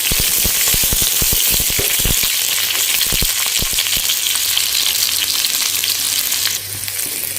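Potatoes and taro fry in hot mustard oil in a wok, a loud, steady sizzle with quick clinks of stirring at the start, then continuous crackling frying alone.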